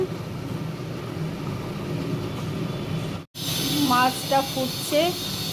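A pan of Bengali tel koi fish curry simmers with a steady hissing bubble that breaks off briefly midway, and a voice speaks near the end.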